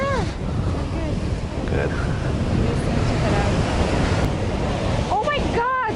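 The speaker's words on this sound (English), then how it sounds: "Look at the clouds. Yeah, getting windy, actually." Strong wind roars across the microphone over constant ocean surf along a shore, loud and unbroken, with brief voices speaking near the end.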